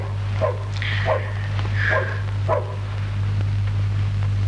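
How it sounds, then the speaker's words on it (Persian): A dog barks several times in quick, evenly spaced bursts at moderate distance over a steady low hum, from a 1974 Iranian film. "این سگ چش اینقدر وق وق میکنه؟"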